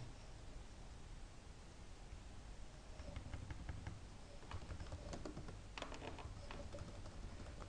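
Someone types a network command on a computer keyboard. Over a faint steady hiss, quick bursts of close key clicks begin partway through and come in uneven clusters.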